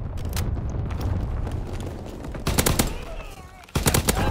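Bursts of rapid automatic gunfire in a World War II style shooter on the Pointe du Hoc map, with loud clustered volleys of shots separated by quieter stretches of low battle rumble.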